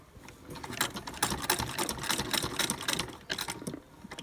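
A sewing machine stitches across the top of a handmade fabric bag, its needle hammering in a rapid, steady rattle that runs continuously at close range, with brief slight dips in pace.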